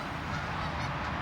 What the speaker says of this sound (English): You can see the geese.